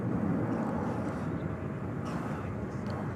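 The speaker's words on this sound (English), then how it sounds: "we've got a plane taking off, and that would be American 1241 going to Seattle" An American Airlines Airbus A321 bound for Seattle takes off at night at DFW, a steady broad jet roar held throughout, fairly distant and unbroken.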